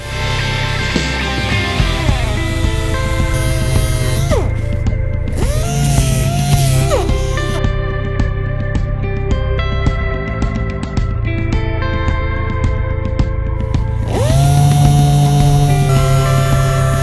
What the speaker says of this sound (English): We are ready to dive in with a sander and actually start doing some final sanding.